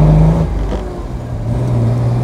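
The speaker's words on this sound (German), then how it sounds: "Kerniger Motor, guter Durchzug." Engine of a 1957 Lancia Aurelia B24 S Convertibile running steadily at close range, a loud, continuous low drone with a slight pitch shift partway through and no talk.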